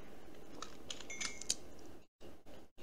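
Keystrokes on a computer keyboard while code is entered in an editor, a light scatter of clicks over a steady background hiss, with a couple of brief dropouts near the end.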